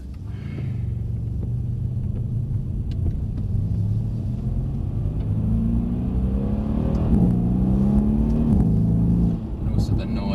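A Mercedes-Benz C63s engine on a track, a deep continuous rumble that climbs and falls in pitch through several throttle changes, heard from inside the car at a steady, fairly loud level.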